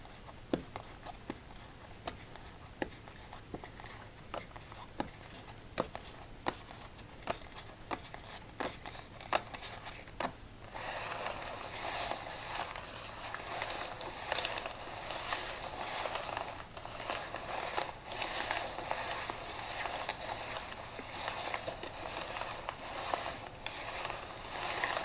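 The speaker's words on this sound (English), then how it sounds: "Let's do a casino shuffle" Playing cards from the Ape 'n' Friends Deck Mk. V crackle and tick sharply for several seconds during a casino shuffle, then a long, soft, continuous riffling rustle follows, close and quiet, with no talking.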